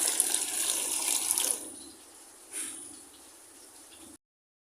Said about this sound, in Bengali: পানি দিয়ে দিব দুই কাপ